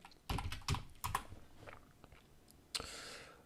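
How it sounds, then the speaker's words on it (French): Keys on a Mac computer keyboard clatter in quick uneven bursts of typing, several sharp clicks clustered together, then a pause and a final louder keystroke, close up with no speech. "donc voilà le clavier, tac tac tac"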